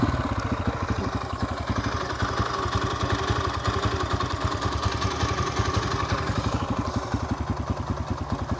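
A Yamaha TTR 125 dirt bike, its carburetor just rebuilt, idles low and steady with a rapid even thumping beat and light mechanical clatter, close by with no talk.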